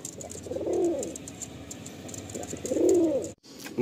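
Madrasi Andhra pigeon giving two soft, throaty coos about two seconds apart, close by, over faint background noise.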